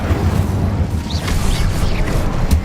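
Incendio fire spell cast in Hogwarts Legacy, a loud continuous rumbling roar of flame and magic effects with soft bursts and whooshes layered over it, steady for the whole stretch.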